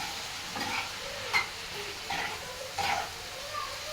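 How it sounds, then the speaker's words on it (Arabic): Alexandrian-style liver fries in a pan with garlic, stirred and flipped; a quiet sizzle runs under several soft scraping stirs spaced across the moment. "انا عماله ايه بقلب بقى الكبده"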